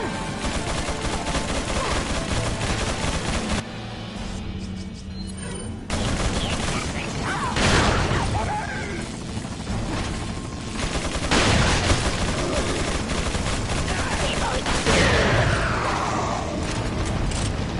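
Ganado enemies open fire in Resident Evil 4, bursts of dense gunfire and clattering mechanisms filling the scene loudly for most of the stretch, with a brief lull before the shooting resumes.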